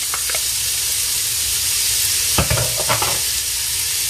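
Onion drops into hot oil in a pan and sizzles with a steady hiss, with a few stirring scrapes and bursts of crackle close up.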